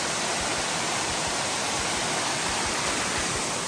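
Waterfall at Falls of Little Stony on Little Stony Creek, heard from near the top of the falls: a steady, loud, full-bodied roar of rushing water with no pauses, filling the whole clip.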